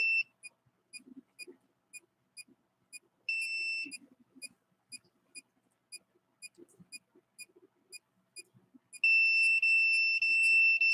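A detector gives short, evenly spaced high beeps about twice a second, with a longer sustained tone near the start and another steady tone held through the final two seconds, over faint low rumbling.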